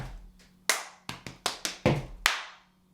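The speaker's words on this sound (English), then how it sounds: "So after that stomp comes a clap." Six sharp hand claps ring out one after another at uneven spacing during a dance routine, each a crisp close hit with a short decay and a faint low hum underneath.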